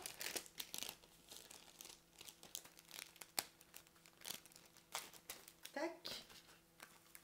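Someone unwraps the packaging of a Globeland scrapbooking kit. Soft, faint crinkling and rustling of wrapping and paper comes in irregular bursts, close by and quiet.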